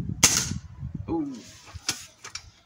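A BSA Lightning SE air rifle fires during target plinking, a sharp crack followed a moment later by metallic pings and clangs of pellets hitting targets, with soft breathy noises between.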